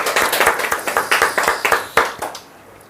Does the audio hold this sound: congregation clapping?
yes